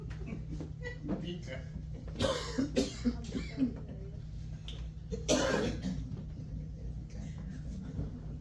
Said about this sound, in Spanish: es que estaba tosiendo así, por favor, porque me tragué el caramelo de ginger